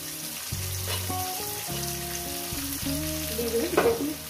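Potato and onion frying together in oil in a pan, a steady sizzle with stirring and some tonal kitchen noise mixed in, a brief louder scrape near the end.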